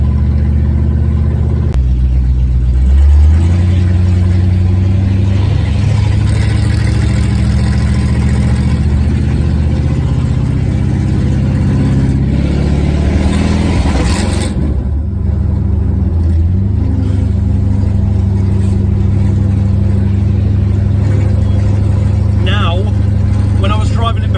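A 1968 Lincoln Continental running Holley Sniper EFI pulls away with a steady, deep low engine rumble that swells as it accelerates. A person talks over it throughout.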